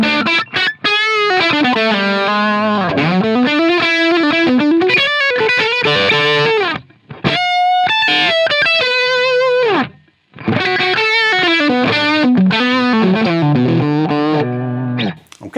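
Electric guitar played through two Line 6 Helix Plexi amp models at once, giving a loud, driven, harmonically rich tone with sustained chords and melodic lines, broken by brief pauses near seven and ten seconds.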